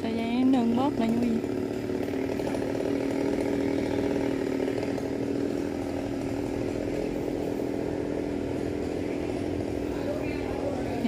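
A chainsaw runs steadily as it cuts a large breadfruit tree at a temple, its engine droning continuously with a brief rev at the start.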